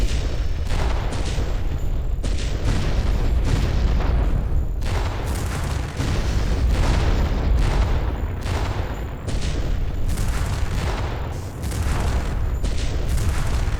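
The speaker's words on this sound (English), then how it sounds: "Station reactor is going critical. Detonation imminent." A space station reactor explodes in the Freespace 2 video game: a loud, continuous barrage of booming blasts and rumbling detonations, with no voices.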